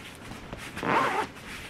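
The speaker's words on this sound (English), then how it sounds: "I'm going to zip her up" A bag's zipper is pulled closed in one quick rasping stroke, heard close up and preceded by faint rustling and handling noises.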